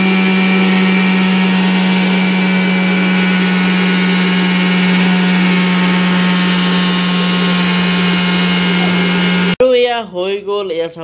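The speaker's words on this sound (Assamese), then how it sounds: "এইটো এতিয়া মিক্সিত মাৰি লম আৰু একদম গুৰি কৰি লম" Mixer grinder grinding flowers into powder for homemade herbal Holi colour, a loud steady whirring drone running for about nine seconds before stopping abruptly, followed by a person talking.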